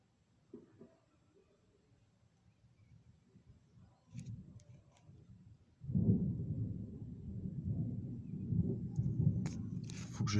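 Thunder from an electrical storm in Calvados, France: faint distant crackles first, then a deep rolling rumble that swells suddenly midway and keeps grumbling loudly to the end.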